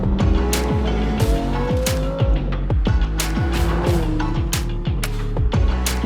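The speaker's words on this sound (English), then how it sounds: "I'm driving the Lamborghini V10." A Lamborghini Huracan Performante's V10 engine screams loudly up through the gears, each upshift marked by a sharp drop in pitch and crackle, repeated rapidly and close inside the car, with no talk.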